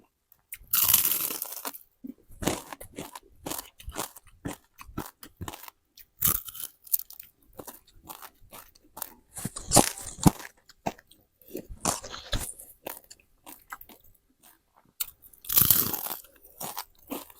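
Crunchy bites and chewing of banana blossom in tom yum soup, repeated close crunches in an irregular rhythm over about seventeen seconds, with louder bursts at a few points and little talk.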